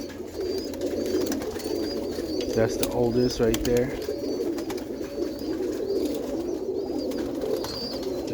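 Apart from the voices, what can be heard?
young roller pigeons cooing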